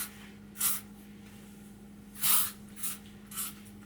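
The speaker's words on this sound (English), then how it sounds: "I'm going to go ahead and apply the hairspray." Hairspray hisses onto hair in four short bursts, two brief and two longer, close to the mic over a faint steady hum.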